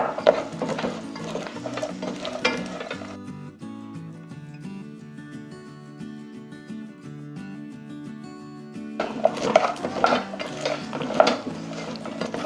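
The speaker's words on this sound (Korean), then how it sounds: "나무 주걱으로 잘 저어주세요. 하얀색 설탕 결정이 생길 때까지 잘 저어주세요." Almonds and sugar are stirred with a wooden spatula in a pot while making amande chocolat, close scraping and rattling that fades during a quiet middle stretch and returns toward the end, with soft music underneath.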